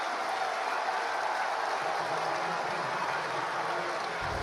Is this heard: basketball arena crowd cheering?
yes